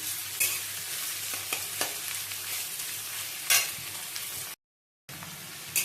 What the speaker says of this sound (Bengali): তারপরে আমার যে ম্যারিনেট করা মাংসটা রয়েছে সেই মাংসটা এর মধ্যে দিয়ে দিতে হবে।